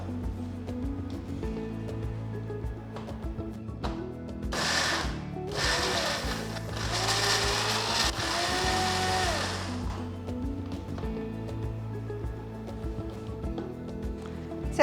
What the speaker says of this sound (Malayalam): ഇത്ര ഇൻഗ്രീഡിയൻസ് നമുക്കൊന്ന് ക്രഷ് ചെയ്തെടുക്കാം.